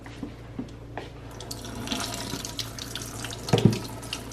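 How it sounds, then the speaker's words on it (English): Water from a can of hominy poured out into a kitchen sink, a continuous splashing rush with a few brief clanks near the end and no talking. "we're going to dump out the water that's in the hominy"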